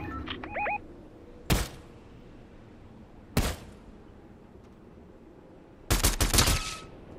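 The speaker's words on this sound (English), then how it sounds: "Oh, there's some more shooting." Gunfire in Fortnite: two single sharp shots a couple of seconds apart, then a rapid cluster of several shots near the end, moderately close, with faint chirpy game sounds at the start and no talk.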